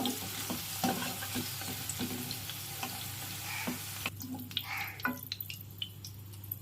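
Okra frying and being stirred in a pan, giving a steady close sizzle with scraping stir sounds throughout and lighter crackles and drips toward the end.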